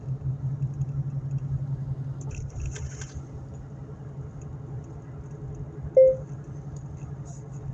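Road rumble fills a moving car's interior, a steady low drone with faint rattles, one brief sharp tone partway through, and people talking now and then.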